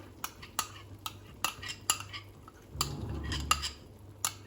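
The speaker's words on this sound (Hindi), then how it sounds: "अच्छे से फेंट लेना है इसको और इसे अच्छे से मिला देंगे" Spoon stirring whisked yogurt into a paneer gravy for Hyderabadi paneer, giving repeated clinks and scrapes against the pot at an uneven pace, close and moderately loud over a low hum.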